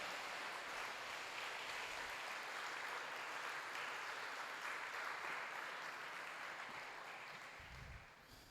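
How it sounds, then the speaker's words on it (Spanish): A church congregation applauds during a sermon, a soft, steady blur of many hands clapping at a distance that fades slightly toward the end. "Ese aplauso yo creo que es para el Señor."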